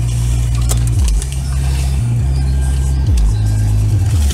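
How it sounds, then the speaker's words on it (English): Heavy trucks pass nearby, their loud low engine drone stepping up and down in pitch several times as they shift and move along the road. "These trucks are chiming."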